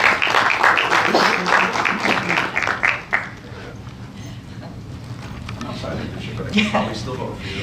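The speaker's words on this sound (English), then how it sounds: "Let's give her a big round of applause." Audience applause at a conference breakout session on transportation technology and data: a dense, steady wash of clapping for about three seconds that quickly dies away, followed by a speaker talking over a quiet room.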